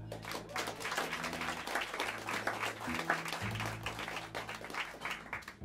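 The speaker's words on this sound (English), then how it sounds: "let's hear it for Matt Penman" Crowd at Smalls jazz club in New York City applauding upright bassist Matt Penman of the John Ellis Quartet, a sustained dense clatter of clapping with sustained low tones and scattered voices beneath.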